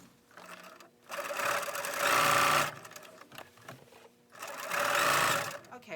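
A sewing machine understitches the seam of a strapless tie-front cutout jumpsuit in two close bursts of rapid whirring stitching, separated by a short pause.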